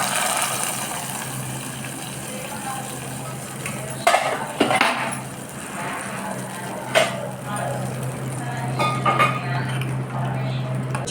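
A spoon clinks and scrapes against a metal pot as fried ingredients are stirred into sweet moong dal payasam, a few sharp taps standing out over a steady kitchen hum, with talking at moments.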